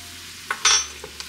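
Garam masala, paprika and cumin cooking in a pan for butter chicken, with a soft sizzle and a few brief stirring scrapes, alone without talk.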